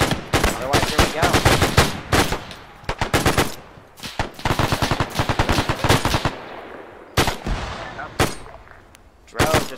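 Bursts of rapid automatic fire and single shots crack in the Iron Front video game, loud and close in dense clusters separated by short pauses.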